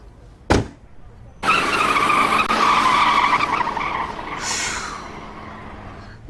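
A car's tires squeal hard in a sustained, loud skid as it pulls away on a street, preceded by a sharp single knock, with the screech fading slightly toward the end.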